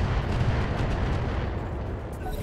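Heavy weapons fire in Battletech with the Roguetech mod, a loud continuous rumbling boom like artillery impacts, deep and sustained.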